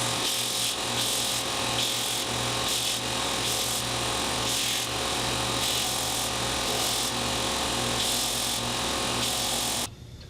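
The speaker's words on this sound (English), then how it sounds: "I'm just going to clean these faces up on my edge sander" Edge sander surfacing the faces of glued wooden rosette discs of tulipwood and maple, a loud continuous close whir with steady abrasive rasp, cutting off abruptly at the end.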